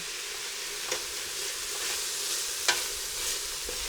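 Eggplant and banana blossom sauté in a pan with onion and garlic for a vegan kare-kare, giving a steady, moderate sizzle with a few sharp stirring scrapes and clicks.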